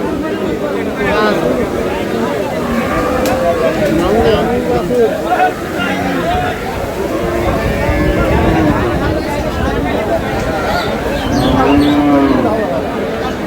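Cattle moo repeatedly, near and loud, at a busy cow market at Aftabganj haat, over a constant babble of buyers and sellers talking and bargaining.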